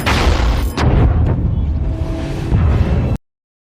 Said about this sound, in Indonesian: Tiba-tiba terjadi ledakan yang menghancurkan beberapa bagian Nautilus.